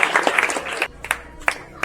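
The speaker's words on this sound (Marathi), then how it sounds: "बाकीच्या विद्यार्थ्यांनी जोरदार टाळ्या वाजवायच्या आहेत अवंतीसाठी" Students at a speech and drawing competition prize-giving clap for a winner, a burst of close, crisp applause that thins after the first second into a few scattered individual claps.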